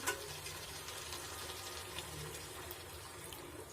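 Water pours steadily into a pot of cooking country chicken, a soft continuous splashing trickle, fairly close and quiet, with no talking.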